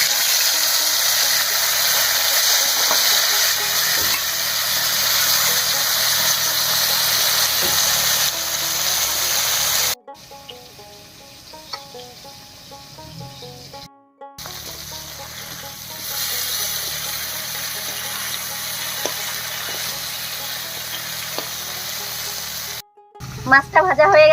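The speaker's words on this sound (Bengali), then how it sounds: "তেল গরম হয়ে গেছে, এবারে শুটকি মাছটা ভেজে নিই।" Dried fish frying in hot mustard oil in a pan, a steady loud sizzle that runs for long stretches, breaks off briefly and then resumes, with faint clinks of a utensil now and then.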